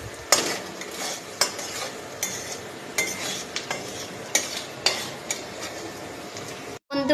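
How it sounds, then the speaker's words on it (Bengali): A spoon scrapes and stirs spices with salt and turmeric in a hot pan, making repeated sharp metallic scrapes and knocks over a low sizzle, close and fairly loud. "এবার আমি লেড়ে চেড়ে নেব।"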